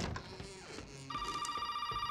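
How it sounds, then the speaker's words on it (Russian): A telephone in Resident Evil 7 starts to ring partway through, giving a sustained electronic ring tone that holds steady over quiet game ambience, and no one talks during it. "Телефон."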